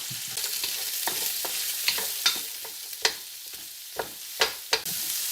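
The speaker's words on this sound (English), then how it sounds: "in that same pan we'll get those onions in" Onions and celery for a chicken stir fry sizzle in a hot pan, a steady hiss broken by sharp scraping stirs and occasional louder clacks of the utensil against the pan.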